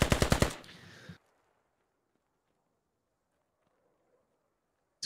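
A DShK heavy machine gun fires in the video game Squad, one rapid burst of about six loud, close shots that cuts off abruptly, followed by near silence with faint distant noise.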